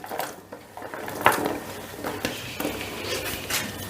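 A ladle stirs masoor lentils with pumpkin and drumstick pieces in a metal pot. Close scraping and clanking against the sides repeat in uneven strokes over a low simmering hiss.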